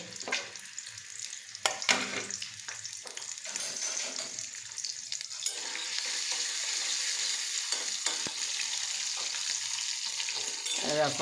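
Chopped ginger frying in white cooking oil, a steady close sizzle that swells and holds, with a few stirring scrapes and clinks early on and no talk.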